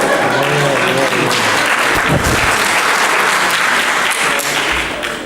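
An audience at the RetroAlba 2016 retro-computing event's author talk breaks into loud, sustained applause, a thick crowd of clapping hands filling the room nearly unchanged throughout, with a brief murmur of voices underneath.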